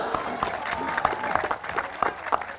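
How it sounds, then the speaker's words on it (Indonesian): An audience at a public talk breaks into steady applause after being urged to clap louder, a dense patter of many hands close by, without pauses. "Tepuk tangannya mana? Yang kenceng dong."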